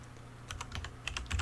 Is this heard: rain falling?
no